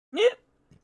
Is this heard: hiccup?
yes